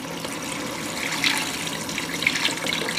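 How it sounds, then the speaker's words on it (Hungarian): About two liters of water gush steadily into a large soup pot, a continuous, fairly loud pouring splash that holds evenly throughout. "Van 2 liter víz jön hozzá."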